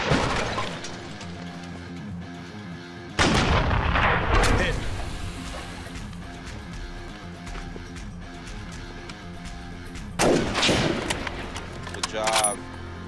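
Two loud, booming M1 Garand rifle shots ring out several seconds apart, each with a long echoing tail over a quiet outdoor background, plus a faint metallic ping near the end.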